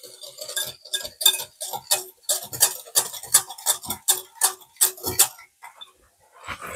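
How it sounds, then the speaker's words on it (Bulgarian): A whisk beats baking soda, salt, oil and vinegar together in a bowl for a lenten soda bread, making quick, regular clinking strokes for about five seconds before stopping. "Ще разбием."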